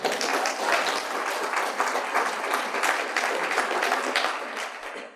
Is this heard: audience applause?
yes